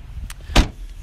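A single solid thud comes from the boot lid of a used Citroën C3 1.2 PureTech Flair hatchback being shut, with a softer click just before it, close and brief.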